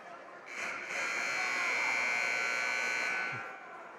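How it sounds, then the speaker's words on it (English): A sustained electronic buzzer at a boys' high school ice hockey game between Messalonskee and Cony sounds loud and steady for about two and a half seconds over arena crowd noise, then cuts off. "there's the buzzer"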